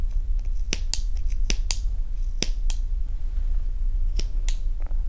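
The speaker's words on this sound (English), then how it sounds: "I want you to grab your scissors and we're going to start cutting" Scissors snip through the crochet loops of a yarn ear warmer: a dozen or so crisp, sharp cuts in an irregular rhythm, close up, with no talk.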